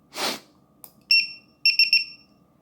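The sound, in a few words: Drone Keeper Mini lost model alarm beeping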